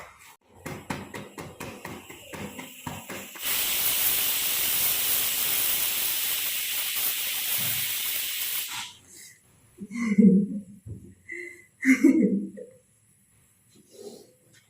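A pressure cooker lets off a steady, loud hiss of steam for several seconds, cutting off abruptly, with clatter and thumps of kitchen activity before and after.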